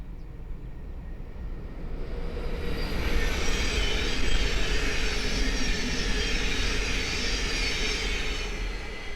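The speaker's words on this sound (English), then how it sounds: "the next train to pass by is a Thames Link 700 from Cambridge to London King's Cross" A Thameslink Class 700 train passes steadily nearby on the East Coast Main Line at Great Wymondley, a continuous rolling rumble with wheel hiss rising to a peak midway and staying loud throughout, no voices.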